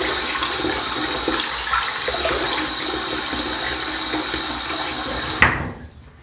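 Water runs steadily from a tap to wet a head before a shave, a continuous close splashing rush that stops abruptly near the end.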